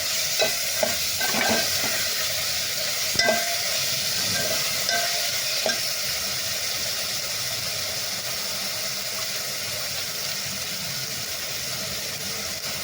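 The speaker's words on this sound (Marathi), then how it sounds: "आता मी यात टोमॅटो टाकले आहे. हे पण छान फ्राय करायचे" Tomatoes fry in a pan as the base for sambar. A constant close sizzle is punctuated by occasional clinks and scrapes of stirring, louder in the first seconds and then settling into a steady hiss with no voices.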